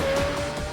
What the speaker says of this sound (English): That'd be time to cue the souped-up supercar.